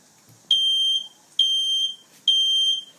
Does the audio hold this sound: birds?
no